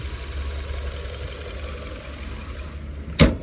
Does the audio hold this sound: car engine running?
yes